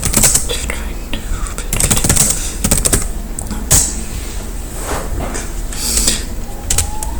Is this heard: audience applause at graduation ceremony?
no